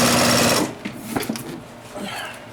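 Chandler 406RB walking foot sewing machine stitching through heavy leather plies, a loud, dense mechanical whir for the first half second, then quieter intermittent clatter and knocks as the stitching slows.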